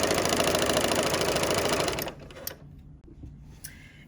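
A sewing machine stitches a fabric tote bag in a fast, steady whir for about two seconds, then stops, leaving a few faint clicks and handling sounds.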